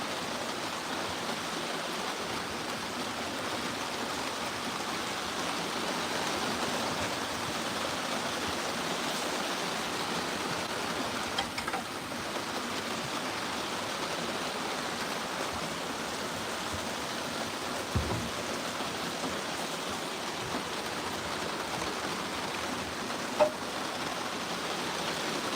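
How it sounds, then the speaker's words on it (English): Rain falling outside a balcony in humid, warm weather, a dense, even, unbroken wash of water noise lasting throughout with no voices. "Perfect weather to be out on the balcony in the rain."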